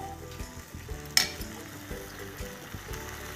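Potato Manchurian fries and sizzles in a pan over a high flame, a steady close crackle with soft clinks of stirring and one sharp metallic tap, and no voice over it.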